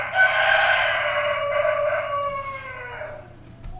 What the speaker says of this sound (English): I'm going to kill that bloody rooster.